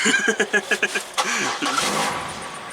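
A 1978 truck, untouched for two years, cranking with a rapid rhythmic starter chug before the engine catches and fires, rumbling unevenly close by with a brief voice alongside.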